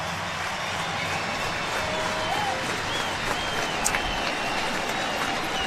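A baseball stadium crowd at an Orioles versus Blue Jays game cheers and applauds in a steady, dense roar that holds loud throughout, distant whistles and shouts poking through.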